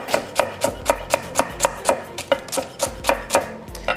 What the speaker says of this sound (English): So I am going to just thinly slice these.